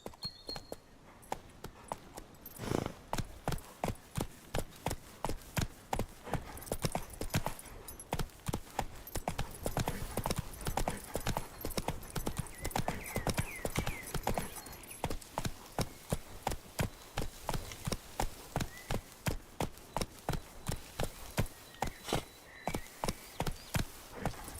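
Hooves of a horse in The Witcher 3 video game clip-clop in a steady, even rhythm for the whole stretch, close and fairly loud, with a brief pause early before the regular trotting beat settles in.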